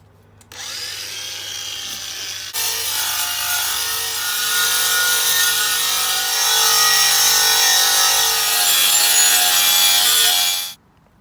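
Abrasive preparation wheel polishing a stainless steel exhaust, a loud steady whir that starts suddenly, grows fuller after a couple of seconds and runs unbroken for about ten seconds before cutting off.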